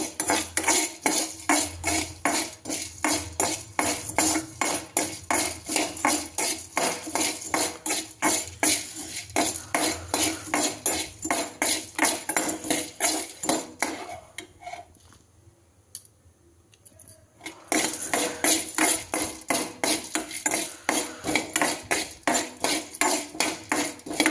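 Whole green cardamom pods, husks on, dry roasted without oil in a pan on a stove, rattling and scraping in a steady rapid rhythm of clinks against the metal, pausing briefly near the end before resuming, close and fairly loud.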